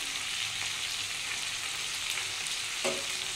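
Cumin powder, chilli powder, turmeric and salt fry together in a pan, producing a continuous, moderately loud sizzle with a brief stir near the end.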